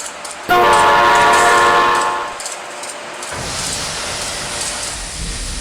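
An Amtrak AEM-7 electric locomotive in the Trainz 2019 simulator sounds a loud, sustained horn blast for about two seconds, then rolls on with a steady rumble of wheels and motors as it heads into a station.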